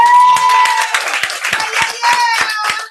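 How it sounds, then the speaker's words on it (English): Applause from a training-session audience for Mr. Nick Miller: scattered, uneven hand claps with a sustained tone and some voices running underneath, moderately loud and close. "Please give Mr. Nick Miller a round of applause."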